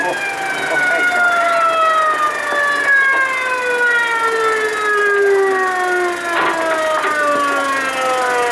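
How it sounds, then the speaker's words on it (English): A loud wailing ambulance siren sweeps slowly downward in pitch as the ambulance passes close by, with a couple of brief clanks partway through. "Here comes the ambulance."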